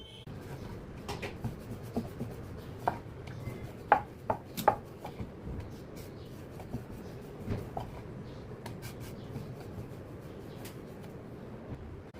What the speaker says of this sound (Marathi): हे बघा अशा प्रकारे पाती लाटून घ्यायची मी आधी दोन तीन पात्या लाटून घेते